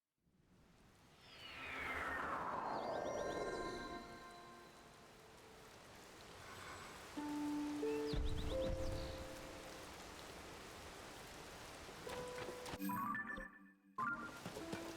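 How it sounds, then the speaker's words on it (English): Steady rain falls in Zelda: Tears of the Kingdom, a soft, even hiss that fills most of the stretch alongside game tones and chimes, with no one speaking. "Of course, it's raining."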